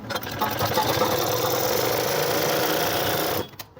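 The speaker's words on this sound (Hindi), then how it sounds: "शोल्डर जॉइंट करने के बाद अब हम यहाँ पर भी एक सिलाई लगा देंगे" A sewing machine stitches a shirt shoulder seam in a steady, loud, continuous whir for over three seconds, stopping abruptly near the end.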